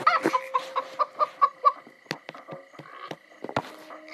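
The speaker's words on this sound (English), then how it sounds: "Chicken." A chicken clucks repeatedly in Minecraft Story Mode. The short, regular clucks are fairly loud and close at first, then give way to scattered clicks and softer game sounds.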